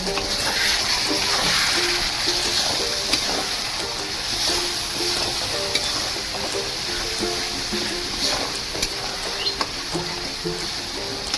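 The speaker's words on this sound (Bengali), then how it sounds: "সামান্য একটু জল দিয়ে আর একবার করবো" Water poured onto frying masala in a pan while cooking mutton kosha, producing a continuous loud, hissing sizzle with watery bubbling that holds steady for several seconds.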